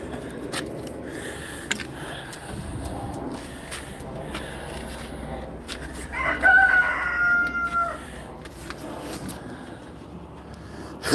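Chickens and roosters in a yard, clucking and crowing at moderate distance, with a clearer crow partway through over steady outdoor background noise.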